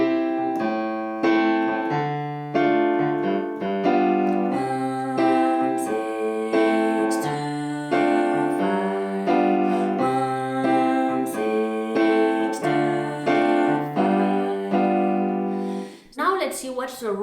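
A 1-6-2-5 chord progression played on a keyboard instrument, sustained chords changing in a steady cycle with a melody line on top, alone and clear for about sixteen seconds before a brief noisy tail.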